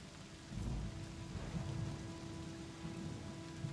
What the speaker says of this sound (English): Raindrops hitting a metal roof.